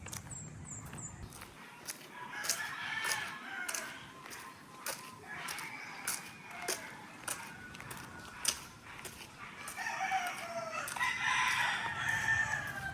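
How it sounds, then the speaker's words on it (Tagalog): Roosters crow repeatedly, several drawn-out calls overlapping from near and farther off, with outdoor ambience and scattered clucks between them. "huni ng mga tilaok ng mga manok."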